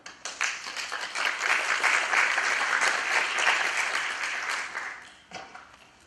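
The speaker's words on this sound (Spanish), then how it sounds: "damos inicio a la disertación del expositor, a quien recibimos con un fuerte aplauso" An audience at an evening lecture breaks into loud applause welcoming a speaker, swelling quickly, holding dense clapping for several seconds, then fading out with a few last claps.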